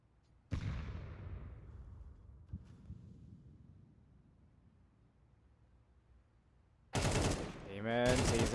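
Gunfire in a competitive video game match, a sharp single shot with a long fading tail, a fainter second shot, then a dense burst of rapid fire near the end.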